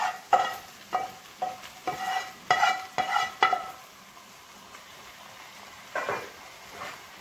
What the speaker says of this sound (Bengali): এবার সেদ্ধ ডালটা দিয়ে দেব।